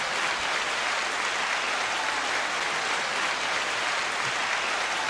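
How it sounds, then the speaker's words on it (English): An audience claps steadily and loudly throughout, a dense, even wash of applause with no pauses or voices. "9-second applause."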